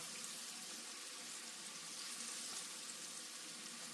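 Calamari fry in hot grease, a steady, bright sizzling hiss that runs continuously and fairly quietly with no voices over it.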